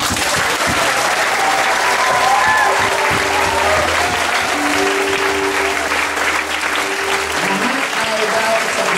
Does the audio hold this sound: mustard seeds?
no